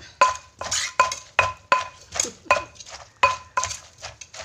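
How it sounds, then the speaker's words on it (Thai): A pestle pounds som tam papaya salad with fermented fish sauce in a mortar. Roughly a dozen close, sharp thuds come in a steady, quick rhythm, each with a clinking rattle, and nobody speaks. "ฟังเสียงโคกโลด"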